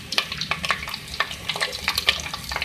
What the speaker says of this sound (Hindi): ये डालने के बाद आप इसको 2 मिनट फ्राई कर लें।